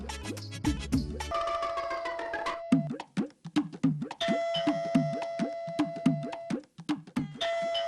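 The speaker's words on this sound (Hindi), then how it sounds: "ये डोरबेल की आवाज आपके कानों तक पहुंच रही है या रास्ते में गुम हो रही है?" A doorbell rings several times in a row, each chime ringing out clearly before the next, with short gaps and a sharp electronic ding-dong tone indoors, no speech.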